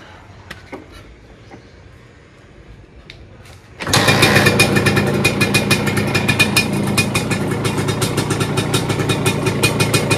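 A Suzuki Satria 120 R two-stroke motorcycle engine fires up suddenly after quiet shuffling, then settles into a loud, rapid, crackling idle that continues steadily close by.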